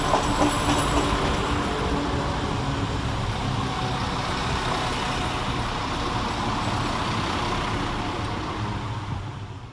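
A Class 172 diesel multiple unit train rumbles steadily close by at Birmingham Moor Street station, its engine drone and wheel noise filling the air before slowly easing off as it draws in.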